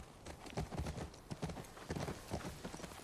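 A chestnut horse's hooves clip-clop steadily in The Last of Us Part II video game, a brisk, close rhythm of hoof falls on hard ground with a low background.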